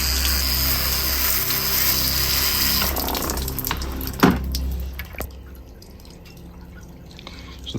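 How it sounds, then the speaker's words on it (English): Water poured over a freshly repotted small juniper bonsai in a new pot, a steady splashing run that fills the first few seconds, then thinner trickles and scattered drips as the flow tapers off. "I'm going to water this now to help it settle."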